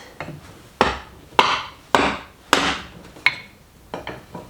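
Nails being hammered into reclaimed timber sleepers while building saw horses: six sharp, ringing wooden strikes at a steady pace, loud and close, with no talk.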